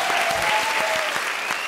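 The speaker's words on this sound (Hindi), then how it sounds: "आज जोरदार तालियां इनके लिए भाई।" Loud, dense applause from a TV comedy show studio audience, steady clapping throughout with a faint sustained tone running underneath.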